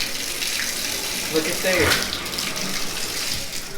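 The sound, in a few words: water running from a tap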